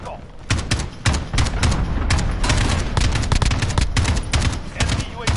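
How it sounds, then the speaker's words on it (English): Rapid bursts of AK rifle fire in a Call of Duty: Modern Warfare Ground War match, loud and near, with repeated sharp shots and clusters of other gunfire filling the clip. "you can get a couple of good bursts out of the AK and still keep the sights on target"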